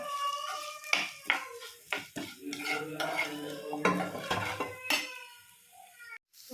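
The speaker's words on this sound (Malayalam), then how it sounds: "തേങ്ങ വന്നിട്ട് നല്ല ബ്രൗൺ കളർ ആവുന്ന വരെ റോസ്റ്റ് ചെയ്യണം." Grated coconut roasts in a pan for a Kerala mutton gravy, with repeated metal spoon scrapes and clinks against the pan over a faint sizzle and no talking.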